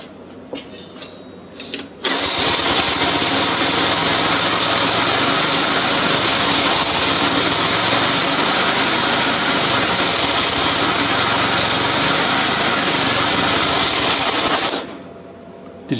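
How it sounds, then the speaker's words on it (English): A hydrostatic lawn tractor's small engine cold-starts after a brief crank, then runs steadily at a loud, close, even idle for about twelve seconds before cutting off. "This will be a cold start."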